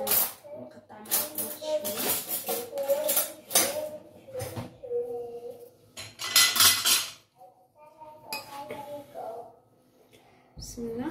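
A knife slices through a tray of semolina basbousa cake, giving repeated metallic scrapes and clinks against the pan, close and fairly loud, with a person talking throughout.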